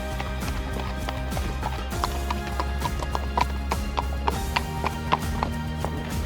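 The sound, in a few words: horse hooves clip-clopping on Alpine trail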